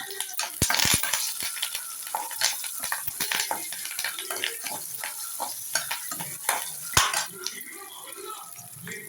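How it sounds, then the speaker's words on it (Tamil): Mustard seeds, dried chillies and curry leaves sputter in hot oil in a kadai that held tomatoes, a steady sizzle broken by sharp pops and clatters of a spoon, close and fairly loud with no talk. "மறுபடியும் கடாயை வச்சு எண்ணெய் ஊற்றி கடுகு போட்டுக்கலாம்."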